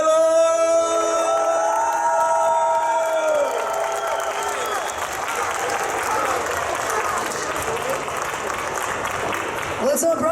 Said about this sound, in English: can I have your warmest, Gothamist, most enthusiastic and most loving applause?